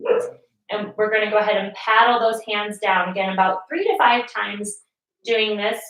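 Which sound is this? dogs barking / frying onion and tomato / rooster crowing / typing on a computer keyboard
dogs barking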